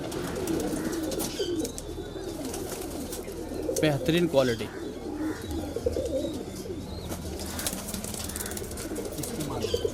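Pigeons, a loft of high-flying kalpare breeders in Patna, coo in low soft rolling calls throughout, with occasional wing flutters and chirps while someone talks over them.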